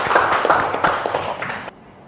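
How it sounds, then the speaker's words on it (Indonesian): Applause for a classmate in a polytechnic lecture on concrete: a short burst of many hands clapping together in a classroom, loud and dense for under two seconds before stopping abruptly. "Tepuk tangan untuk teman kita"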